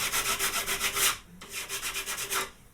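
A shop tool surface being scrubbed by hand in a workshop, a rapid rhythmic back-and-forth rasp of about a dozen strokes, a short pause, then another burst of strokes, close and alone without talk.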